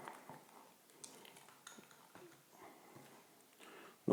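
Sourdough starter stirred in a jar, faint intermittent scraping and soft clinks of a utensil against the glass, quiet and close, ending in a louder knock.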